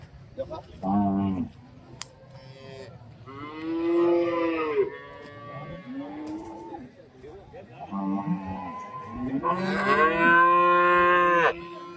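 Buffalo and cattle low repeatedly at a busy livestock market, several long drawn-out moos from different animals close by, rising and falling across the scene with brief gaps between calls.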